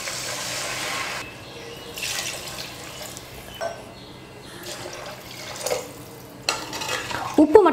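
Water is poured into a pot of rice for Ambur chicken biryani, a steady splashing, trickling wash with brief gaps between pours and a louder stir or clink near the end.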